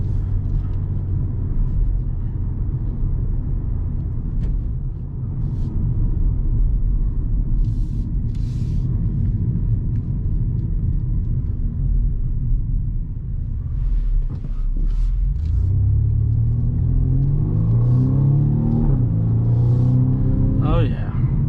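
BMW M235i xDrive Gran Coupe engine rumbling steadily from inside the cabin while driving, then climbing in pitch as it accelerates hard near the end, with a voice speaking briefly over it.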